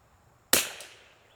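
A single rifle shot cracks sharply on a target-shooting range, one sudden loud report followed by a quick fading echo, with no voices.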